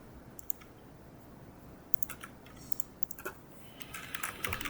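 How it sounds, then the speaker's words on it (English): Quiet, fast keystrokes on a computer keyboard come in scattered bursts of light clicks over a low background hum, busier toward the end. "Unfortunately, I'm going to have to keep typing it."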